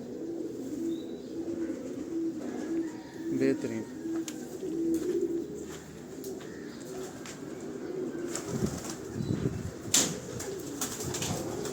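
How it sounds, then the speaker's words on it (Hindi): Pigeons coo steadily in a breezy outdoor setting, with occasional wing flaps toward the end. Wind noise and a voice run over the birds. "कबूतर"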